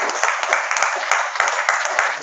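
Audience at a regional forum in Quilpie, Queensland, applauding a panel: a dense, steady wash of clapping from a crowd, loud and continuous throughout.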